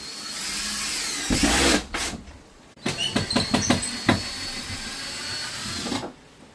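A power drill whirs loudly while its bit skips and chatters on stripped screws inside a camper trailer being gutted, in two close bursts separated by a brief pause, with rattling clicks as the bit slips.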